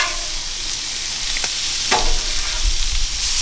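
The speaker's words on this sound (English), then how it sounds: "they're searing nice. We're gonna go ahead and flip them." Blackened crappie and walleye fillets sear in hot oil in a pan, a steady loud close sizzle with a couple of brief spatter bursts, no talking.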